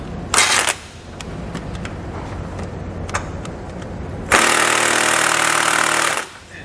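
A power tool, likely an impact wrench, runs in two bursts while taking off the nuts holding a vehicle's bumper during a Roadmaster crossbar-style base plate install: a short loud buzz near the start, then a longer steady whir near the end.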